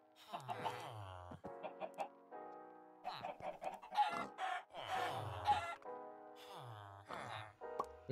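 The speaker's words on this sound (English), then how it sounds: "You hear the chicken dying?" A Minecraft chicken clucks repeatedly in short, choppy bursts with brief gaps, its squawks suggesting it is being killed in the video game.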